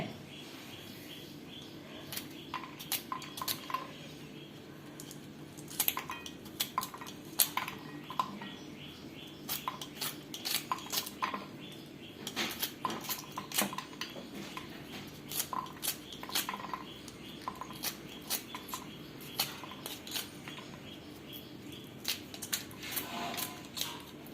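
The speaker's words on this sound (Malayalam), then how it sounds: "അപ്പോൾ അത് ഞാൻ ആദ്യം കട്ട് ചെയ്തെടുക്കാം" Irregular sharp clicks and taps of a knife chopping beans and carrots on a cutting board, coming in quick bursts with short pauses, fairly quiet and close.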